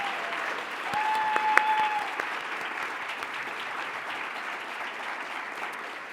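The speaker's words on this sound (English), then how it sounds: "Can we have one more round of applause for all this year's Leadership Award winners?" Applause rolls through the audience at a leadership awards ceremony, sustained and dense clapping that stays even throughout, with a faint crowd murmur underneath.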